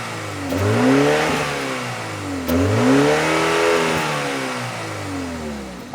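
A 2024 BMW X2 M35i revs through its quad exhaust in two loud, close blips, each rising and falling in pitch, with a steady rumble between them and no talk.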